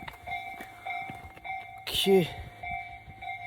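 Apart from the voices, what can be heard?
train approaching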